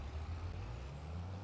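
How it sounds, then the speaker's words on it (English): A truck in the video game Farming Simulator 25 rolls along with a low, steady engine rumble and an air brake sound, heard alone without talk. "we'll take the truck over there right now"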